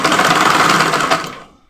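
A sewing machine runs steadily while stitching a smocked off-shoulder dress, its fast, even needle clatter close and loud, then slowing and fading out near the end.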